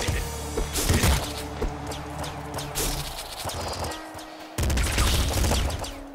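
Rapid assault rifle fire in the top-down shooter game Nuclear Throne, with bursts of sharp shots over game music and effects and a loud burst near the end, no voice heard.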